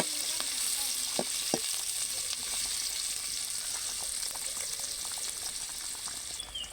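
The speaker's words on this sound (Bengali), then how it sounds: "কড়াই বসিয়ে দিয়ে পেঁয়াজ আর কাঁচামরিচ দিয়ে দিচ্ছি এগুলোকে আমি ভালোভাবে ভেজে নেব" Onion and green chili sizzle in a wok, a dense, even frying hiss with scattered pops and crackles, close and continuous without speech.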